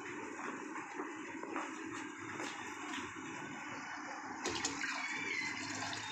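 Water pours into a goldfish container at home, a steady, fairly faint rush and splash that runs throughout with a slight surge near the end and no talking.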